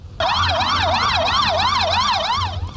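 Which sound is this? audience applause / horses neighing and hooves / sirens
sirens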